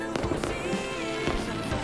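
Birthday fireworks exploding in quick bursts, several crackling booms spaced over a continuous musical backdrop.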